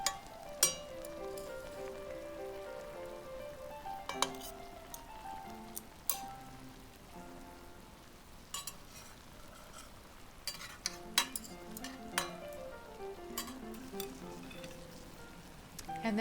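Vegetarian tofu skin rolls sizzle softly in a pan with a low, steady frying crackle, broken by occasional sharp taps and clicks of utensils as the rolls are flipped.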